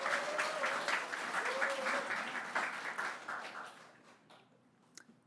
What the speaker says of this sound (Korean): 우리 박수로 한 번만 더.